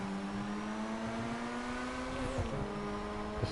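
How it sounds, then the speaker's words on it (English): McLaren sports car engine droning at steady revs from inside the cabin, a smooth tonal hum that rises slightly and shifts pitch briefly near the end, moderately quiet and continuous. "I'm out here rolling in a McLaren."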